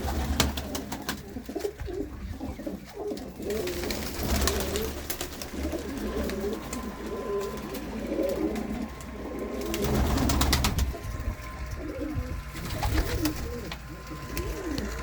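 Soft, repeated low cooing of pigeons among general bird chatter and background bustle, with a few faint voices.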